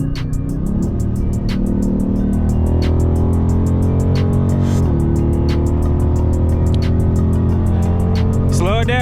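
A tuned Dodge Charger running 93 octane accelerates hard from inside the cabin, its loud, steady engine roar climbing through the revs, with a brief dip as it shifts.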